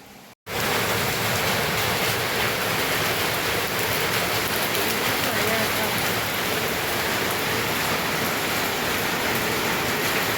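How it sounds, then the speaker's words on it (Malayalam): Heavy rain pours steadily in a dense, loud, unbroken roar that starts abruptly after a brief quiet moment and continues without letup. "ഭയങ്കര മഴയായിരുന്നു"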